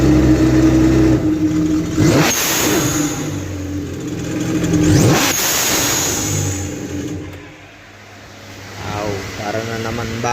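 A repaired Yamaha FX Cruiser personal watercraft engine runs steadily at close range, its tone swelling in two revs before easing back and rising again, with talk over it.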